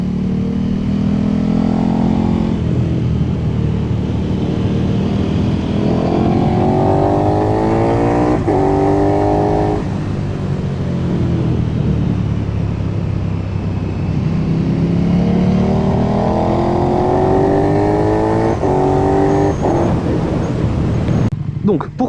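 A KTM 1290 Super Duke R rides a mountain pass, engine pitch rising and falling through repeated gear-change sweeps under heavy wind rush from the rider's position, with someone talking over it.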